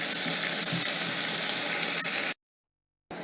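Tomatoes sizzle in a hot pan while cooking, a steady close hiss that cuts out abruptly and then resumes briefly.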